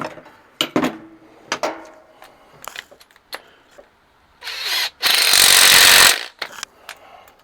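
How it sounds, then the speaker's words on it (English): A power drill whirs in a short burst and then a longer one, enlarging a hole with a drill bit during transmission removal on a Kenworth K100 Aerodyne truck, between clinks and taps of parts being handled nearby. "Get a drill bit and open that up a little bit."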